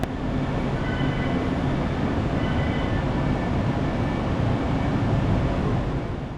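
A London Northwestern Railway Class 730 electric train arrives at platform 13 on an evening service to Northampton, a steady, loud rumble with faint humming tones throughout and no voices.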